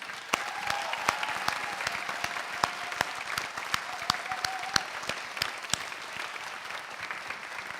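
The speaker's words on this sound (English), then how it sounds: "Give them a round of applause." Sustained applause from a concert audience honoring senior wind, brass and percussion players at a high school spring orchestra concert, steady dense clapping with sharper individual claps standing out throughout.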